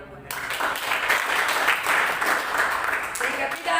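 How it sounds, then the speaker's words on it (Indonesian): Church congregation applauding, a dense wash of clapping that swells and holds for a few seconds while a voice carries on over it. "Tepuk tangan buat Tuhan."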